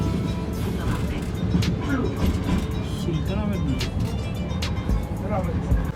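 A tram rolls through Eminonu in Istanbul with a steady, close rumble of wheels and motor filling the whole stretch, with people talking over it.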